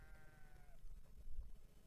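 Sheep and goats grazing near Tehri lake, one faint bleat lasting under a second against quiet outdoor background noise.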